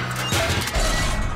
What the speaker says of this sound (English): Lads, let's smash up this old pipe.